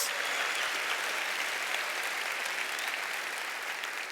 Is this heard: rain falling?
no